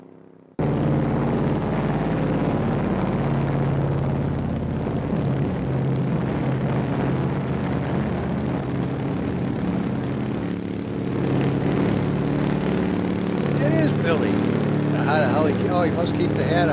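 An old helicopter flies overhead, its engine and rotor making a steady, loud drone that fills the whole stretch, with voices and other sounds mixed in.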